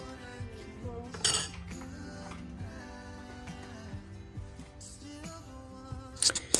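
A metal spoon clinks against a cooking pot while adding Nigerian pepper soup mix, giving a couple of sharp, close clinks among soft handling clatter over a steady tonal background.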